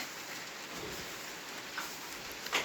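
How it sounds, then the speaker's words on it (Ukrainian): Steady rain hisses on a surface outdoors, an even wash of drops with a couple of louder close splats near the end. "На дворі дощ іде"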